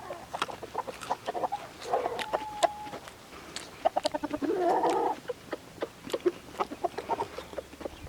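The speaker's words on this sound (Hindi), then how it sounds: "कुछ ख़ास नस्ल के मुर्गे हैं।" Special-breed chickens on a farmhouse cluck repeatedly nearby, a scattered series of short clucks and a few drawn-out calls from the flock.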